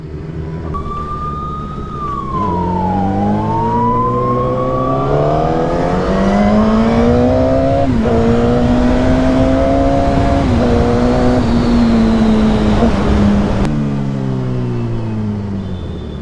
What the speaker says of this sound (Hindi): अब बाइक लेकर निकल ही गए हैं तो थोड़ा सा घूम के ही आते हैं यार